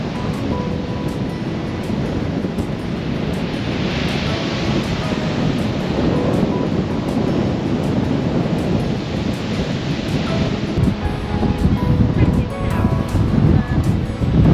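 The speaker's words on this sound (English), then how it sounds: "Windy enough. I'm just about to get blown off." Strong wind roars continuously across a microphone by the coast near a skate park, with surf rumbling beneath, loud and unbroken throughout.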